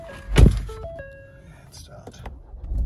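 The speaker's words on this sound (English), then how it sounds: "Shutting up the door." A Ford Focus RS Mountune door shuts with a single solid thunk close by, with the welcome chime tones fading around it and faint cabin noise afterward.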